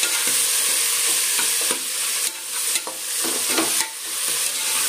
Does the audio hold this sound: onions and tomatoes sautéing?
yes